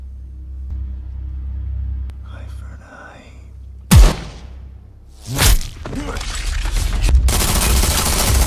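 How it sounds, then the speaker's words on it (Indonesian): Tactical troops open fire in a film scene: a low rumble gives way to a sharp loud blast, then a second burst and a sustained roar of gunfire. A voice murmurs under the early part. "Pasukan taktikal langsung buka tembak ke Sam"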